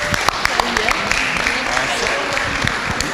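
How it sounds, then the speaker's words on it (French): Lively applause at a youth forum's first-anniversary event, a crowd clapping steadily throughout with a few sharp, louder claps standing out close by. "On peut applaudir pour elle."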